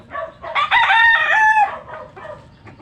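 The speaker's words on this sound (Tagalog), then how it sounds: "Tinulong ko yung ibang manok kasi nag-away." Chickens squabble and a rooster lets out a loud, close crow that rises and falls over about a second, with a brief cluck or two trailing after.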